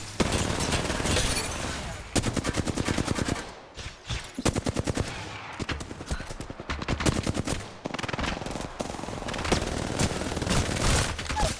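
Rapid automatic gunfire bursts in an Apex Legends match, loud and close, with repeated volleys and short pauses between strings of shots across the span.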